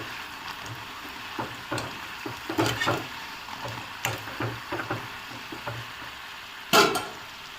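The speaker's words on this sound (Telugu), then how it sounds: "బాగా వేగనిద్దాము." Homemade Telugu snacks deep-frying in hot oil, a steady close sizzle with soft bubbling and scattered crackles and pops, one sharp louder crackle near the end.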